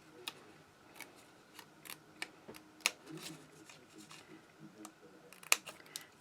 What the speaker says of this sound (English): I am just going to snip this piece right off